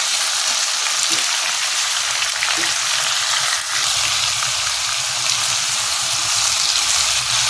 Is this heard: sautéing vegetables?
yes